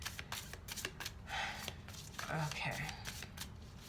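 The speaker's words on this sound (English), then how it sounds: "we're going to keep shuffling a bit" Tarot cards are shuffled by hand in a run of quick, crisp riffling and tapping bursts, fairly close, with a brief spoken word partway through.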